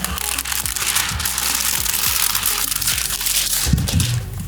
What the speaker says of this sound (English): I'm gonna peel this liner.